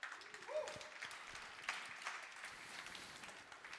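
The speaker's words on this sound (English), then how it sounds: "Let's give the Bitcoin Center a round of applause." Audience at a blockchain conference event applauding, a faint, dense wash of many hands clapping continuously in the distance, with scattered voices mixed in.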